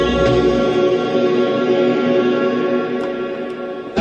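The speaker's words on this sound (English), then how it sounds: "I love that the filter keeps going, or I should say the reverb" Loud music playing through a Pioneer DJM-S9 DJ mixer with its reverb effect engaged, a dense, continuous wash of sound that tails off slightly toward the end.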